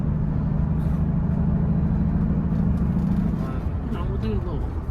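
A Mercedes-Benz CL65 AMG with a manual gearbox swap drives along with a steady, loud engine drone and road rumble, easing off near the end as if during a downshift, while someone talks over it.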